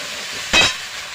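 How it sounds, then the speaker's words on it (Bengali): Grated tomato masala with ginger paste sizzles in a pan for chicken biryani, a single brief hissing burst as it is stirred, then a quiet background. "আমি এটা ভালো করে কষিয়ে নেব।"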